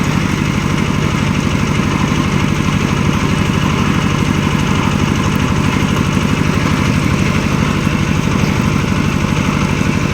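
The engine of a well-drilling machine runs steadily at a close, loud, even chugging idle with a constant vibrating drone and no pauses.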